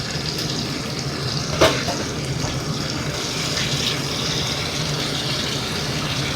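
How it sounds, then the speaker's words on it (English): Running water pours steadily into a kitchen sink while cooked rice is strained, a constant moderate splash with one brief sharper clatter partway through and no speech. "Strain the rice."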